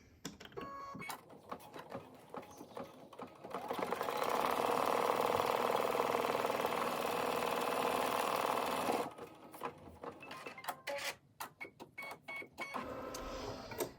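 A sewing machine tacks down a heat transfer vinyl applique, starting with a few light clicks and taps, then running steadily for about five seconds before stopping, followed by more handling clicks.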